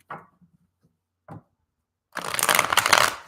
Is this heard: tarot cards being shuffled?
yes